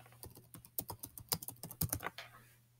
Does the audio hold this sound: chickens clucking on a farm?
no